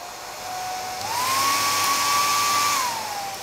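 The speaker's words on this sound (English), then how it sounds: "if you have a hair dryer, what you can do is you can turn the hairdryer on" A hair dryer whirs with a steady high whine, its pitch rising as it speeds up, holding, then dropping slightly near the end.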